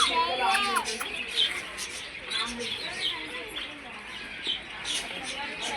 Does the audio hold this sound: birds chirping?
yes